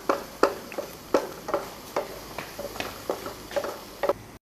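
A spoon scrapes and stirs apple halwa in a pan over medium heat, a soft rhythmic series of scraping strokes roughly every half second, close and fairly quiet with a faint sizzle underneath.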